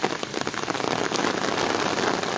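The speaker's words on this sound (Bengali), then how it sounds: "দেখেন এখনো বৃষ্টি হচ্ছে," Steady rain pours down in Comilla during a flood-threat downpour, a dense continuous patter without pause, fairly close and even throughout.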